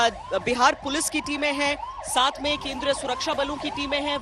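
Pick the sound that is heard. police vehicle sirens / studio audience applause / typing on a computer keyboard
police vehicle sirens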